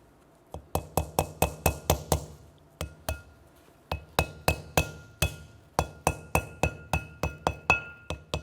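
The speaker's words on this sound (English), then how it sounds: "I'm going to gently tap this into place." A wheel bearing seal on a 1993-1997 Ford Ranger front hub is tapped into place with a hammer, a run of sharp metallic taps in quick bursts separated by short pauses, close and crisp with no talking.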